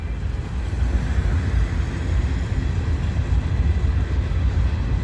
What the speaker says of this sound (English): this is a big old train